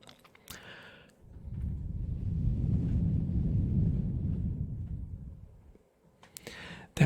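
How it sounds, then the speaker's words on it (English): Close, breathy blowing into the ears of an ASMR binaural microphone rushes across it for several seconds, a soft low roar like wind, with brief rustles at the start and end. "I'm blowing you away. Literally. With my mouth."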